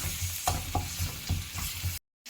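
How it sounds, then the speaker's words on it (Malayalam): Tomatoes being stirred in a frying pan, a steady sizzle broken by regular spoon scrapes about every quarter second, close and moderately loud, ending in a brief silence. "അത് കഴിഞ്ഞിട്ട് നമുക്ക് നന്നായിട്ട് ഇളക്കി കൊടുക്കണം ഗൈസ്."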